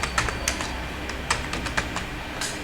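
A computer keyboard typed on in quick irregular bursts of clicks, close and clear, with brief pauses between keystroke clusters and no talking.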